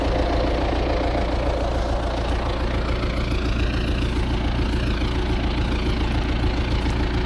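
A tractor engine runs steadily and loudly throughout while driving on concrete during soybean sowing, a constant low rumble with rhythmic knocking and no pauses.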